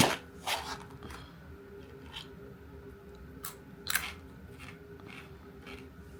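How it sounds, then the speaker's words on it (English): Super crunchy dried potato sticks being bitten and chewed, giving a few sharp, close crunches spread across a quiet stretch, with two louder bites standing out. "they're like super crunchy dried potato sticks"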